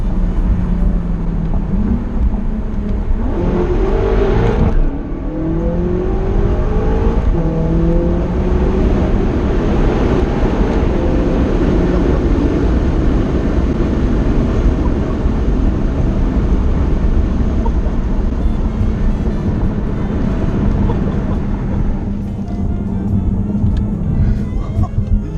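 BMW F10 M5 with an Akrapovic exhaust and downpipes, heard from inside while driving: a loud, steady engine drone and rumble rising and falling with revs, with a sharp rev change near the start and occasional voices.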